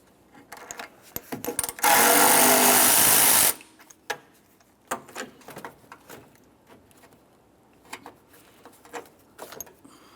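On a 1994–2002 Dodge Ram 2500, a power tool whirs in one loud, steady burst of under two seconds to remove a 10 mm radiator mounting bolt, surrounded by quiet clinks and handling noises.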